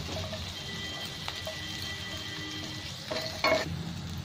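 Boiled pasta is stirred with fried onion and vegetables in a pan: a continuous soft sizzle with spoon scrapes and a brief metallic clink near the end, no talking.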